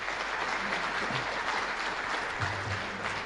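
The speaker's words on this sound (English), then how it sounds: "Let's give Dan a round of applause" A hall of fame ceremony audience claps in a sustained, even round of applause that holds steady and fairly loud for the whole stretch, with no voices standing out.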